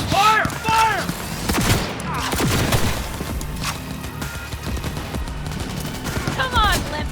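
Heavy gunfire from a firefight in Cyberpunk 2077: loud, dense volleys of shots and booms close by, with shouting voices at the start and end.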